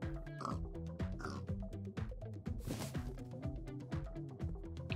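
Cartoonish pig oinks from the puzzle video game Pog Games 2, repeated in quick bursts over steady busy game music, fairly loud and close.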